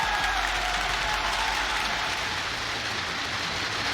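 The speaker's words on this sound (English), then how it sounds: "Got a lot of cheers from the crowd." Live crowd bursts into sustained applause and cheering at a Rainbow Six Siege map bans announcement, a dense, even wash of clapping throughout the short clip.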